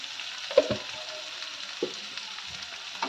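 Onions with a pinch of salt sizzling softly in a pan, with a few sharp scraping stirs near the start and middle over a steady low frying hiss; no voices.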